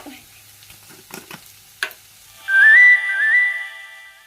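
A crab roast is stirred in a pan with spice powder, giving a few scraping knocks, then a loud whistling hiss takes over for the last couple of seconds, close and with no speech.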